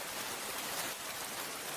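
Steady rain falls at night around a hut, a dense, even hiss of countless drops on surfaces that stays constant and enveloping throughout, with no voices over it.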